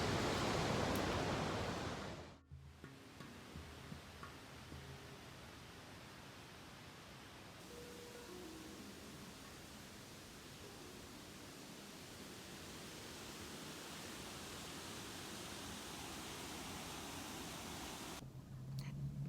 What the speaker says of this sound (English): these waterfalls, the gorge, very recharging.